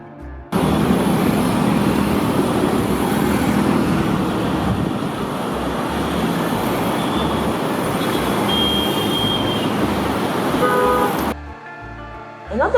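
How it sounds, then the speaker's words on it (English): Noisy street traffic in an Indian city: a dense, continuous roar of cars, motorbikes and trucks with scattered horn toots, cutting off abruptly near the end. "The streets can be pretty noisy."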